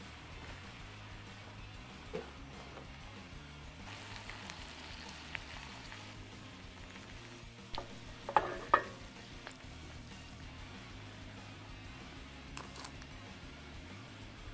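Sauces and seasoning cooking in a pan for oyakodon, a faint steady sizzle and simmer with soft stirring, a few brief clinks of a utensil near the middle.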